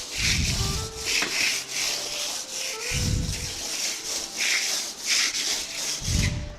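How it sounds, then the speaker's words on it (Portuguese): A trowel spreads putty across a wall in random sweeping strokes, making rhythmic scraping and rubbing sounds with a few heavier low swipes, close and clear with no speech. "É como se eu estivesse bailando com a ferramenta"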